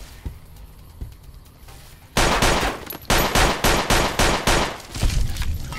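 Gunfire in Fallout New Vegas: faint scattered shots at first, then a sudden loud burst of rapid automatic fire followed by several more sharp volleys in quick succession, close and dominant.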